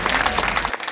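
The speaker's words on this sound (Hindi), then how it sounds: "यदि आप लोग तालियां बजा के मुझे आदेशित कर दें तो मैं शुरू कर दूं।" Audience clapping at a Hindi poetry recital, a dense burst of many hands that breaks off abruptly near the end, leaving only faint scattered claps.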